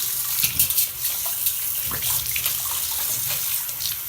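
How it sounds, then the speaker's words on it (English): Water runs from a Hansgrohe mixer tap in a steady, close hiss, with small splashes and knocks breaking the flow now and then. "if I turn the cold water on, I'm also testing the temperature itself"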